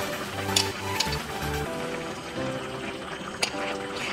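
Chopped tomato going into a pan of Kerala-style karimeen fish molee: a continuous gentle sizzle and simmer with a few sharp clinks and scrapes of a utensil, close up and fairly steady.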